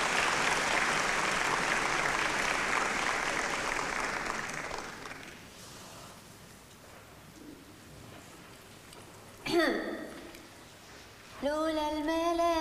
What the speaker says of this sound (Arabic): تشجيع يا جماعه، شجعوا نينا